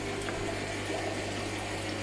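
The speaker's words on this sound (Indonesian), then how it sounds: "jadi air dari tank ini turun. Nih, turun ke pipa." Aquarium water drains from a discus tank down into a pipe that feeds a filter, making a faint, steady trickle over a constant low hum.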